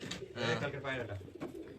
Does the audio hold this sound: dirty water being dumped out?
no